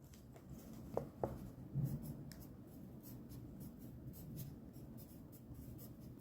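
A pencil writes on lined paper at close range, producing quiet scratchy strokes with a few sharper taps and short pauses between letters.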